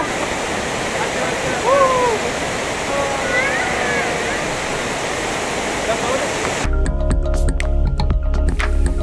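Barki waterfall roars as a steady, broad wash of falling water close by, with voices over it, before the sound cuts to a different, choppier texture near the end.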